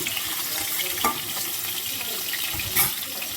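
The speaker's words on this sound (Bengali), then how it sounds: "আমি এবার ভেটকি মাছগুলো সর্ষের তেলে ভেজে নিচ্ছি" Barramundi (bhetki) fish pieces frying in mustard oil, giving a steady close hiss of sizzling with a couple of sharper spits and pops.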